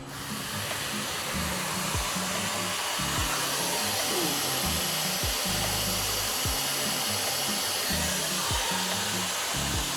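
Metal machining with coolant flowing, the cutter breaking chips; a loud, steady broadband wash with low irregular thumps and crackles, no voices.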